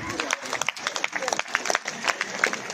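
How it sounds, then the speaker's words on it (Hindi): An audience at a silver jubilee celebration claps, scattered and moderately loud applause from a crowd with some background voices mixed in, lasting a few seconds. "एक बार फिर जोरदार तालियां हो जाए हमारे सिल्वर जुबली सेलिब्रेशन कमेटी के लिए।"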